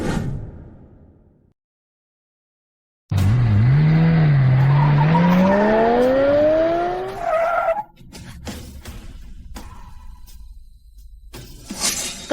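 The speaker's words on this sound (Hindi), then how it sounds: "वह पापा की गाड़ी है।" A black car arrives in a burst of loud skidding, its tires squealing in a rising, wavering screech for several seconds after a short silence, followed by rattling impacts and shattering clatter.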